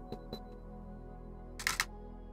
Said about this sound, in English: Let's hit that shutter button and see what we get.